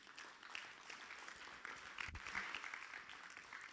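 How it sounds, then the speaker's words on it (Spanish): A church congregation claps in a faint, steady burst of applause that lasts the whole clip. "Le das un fuerte aplauso a nuestro Dios."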